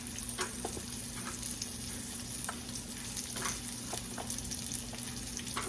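Pieces of liver frying in a pan for liver and onions, a steady close sizzle with scattered pops and splashes running throughout, with a constant low hum underneath and no talking.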